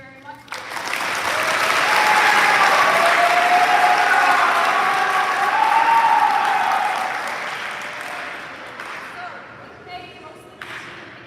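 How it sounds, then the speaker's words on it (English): Sustained applause for a school fencing team at a sports awards ceremony, swelling to a loud, steady clatter of clapping within a second and holding for several seconds before thinning out toward the end. "big round of applause, fencing team"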